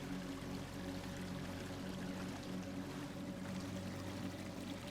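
Water sliding and splashing in the video game AER: Memories of Old, a continuous rushing, pouring wash of water that holds steady and fairly loud across the whole stretch with no voices.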